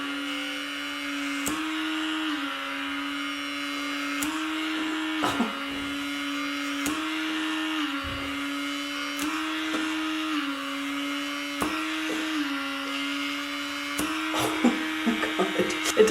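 A facial suction skin-care device runs on skin, giving a steady close motor hum whose pitch shifts slightly up and down, with faint clicks and rustles over the top.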